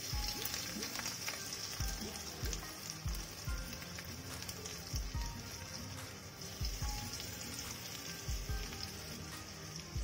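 Ginger paste fries in hot oil in a kadai, making a faint, steady sizzle. Soft spitting pops scatter through the hiss.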